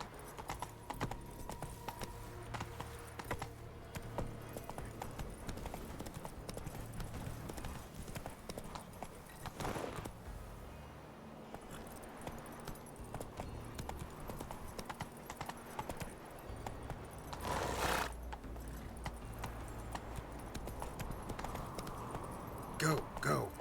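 Witcher 3 horse Roach gallops with steady rapid clip-clop hoofbeats, up close and continuous, while someone talks over it and game music and effects run underneath.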